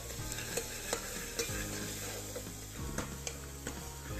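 A spoon stirs and mashes turnip masala in a frying pan, making repeated scraping knocks over a soft sizzle, with a low tonal hum underneath and no voices.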